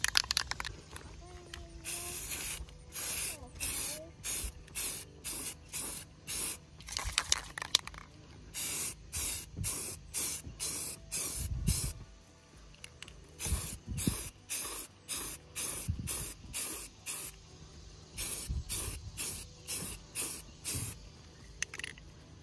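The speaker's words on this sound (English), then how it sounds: "I'm gonna paint them. Ultra matte Rust-Oleum paint." Ultra matte Rust-Oleum aerosol paint sprays in repeated short hissing bursts, a steady rhythm of close, loud pulses with brief gaps, and a few low knocks in between.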